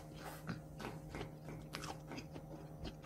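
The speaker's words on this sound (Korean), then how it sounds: "자, 먼저 탕수육을 탕수육 먼저 먹어보겠습니다" Close, faint chewing and biting of sweet and sour pork (tangsuyuk), with soft crunches and wet mouth sounds repeating steadily.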